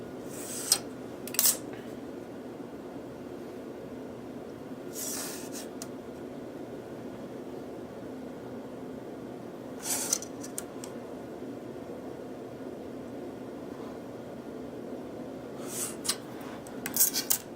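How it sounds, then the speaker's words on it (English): A scribe or marker scratches lines across a metal sheet, short faint scraping strokes in scattered pairs over a steady low hum in a sheet-metal shop. "Draw my lines across."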